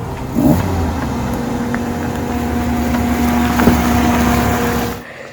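Homemade turbo Peugeot 106 engine accelerating close by, a loud steady roar with a sustained tone that holds for about five seconds, then cuts off abruptly.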